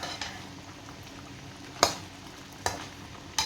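Chicken pochero ingredients, including carrots, being stirred together in a pot: a steady soft sizzle and bubble with a few sharp clinks of a utensil against the pot, close by with no talking.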